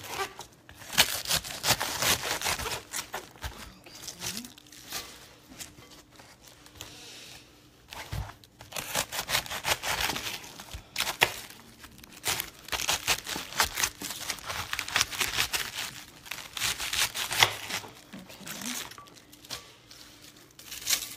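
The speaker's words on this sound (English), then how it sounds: "So in a minute, I'm going to cut up all the cabbage." Fresh, crisp cabbage is cut up for sauerkraut, giving repeated crunchy, crackling chops and tearing sounds that run steadily with short pauses, close and fairly loud throughout.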